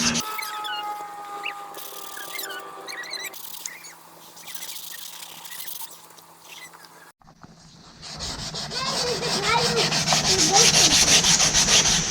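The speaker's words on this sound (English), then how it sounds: "We're going to take this 220 grit sandpaper. And basically sand that dead skin off." A fender on a 1983 Honda XL200R dirt bike is hand sanded with 220 grit sandpaper. A few quiet handling clicks come first, then close, rhythmic, scratchy rubbing strokes grow louder over the last few seconds.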